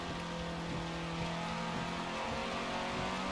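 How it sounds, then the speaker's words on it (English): A racing car's engine in Forza Motorsport 7 drones loudly and steadily, a continuous buzzing roar held throughout with a faint hiss beneath, no speech over it. "Your car is like super loud."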